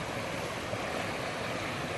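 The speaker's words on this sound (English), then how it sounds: "I've just gotten back to the river, the stream here" River stream flowing at Red Rock, a constant broadband rush of water, steady and fairly close, with no voices.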